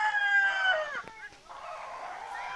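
Chickens clucking and a rooster crowing on a desi poultry farm, a close, fairly loud crow running under the other birds' calls, with faint farmyard background.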